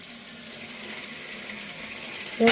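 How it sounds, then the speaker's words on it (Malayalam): Tap water runs steadily into a vessel, a continuous hissing stream that holds even for a couple of seconds before a louder clunk at the end. "നമുക്ക് വെള്ളം നിറച്ച് കൊടുക്കാം"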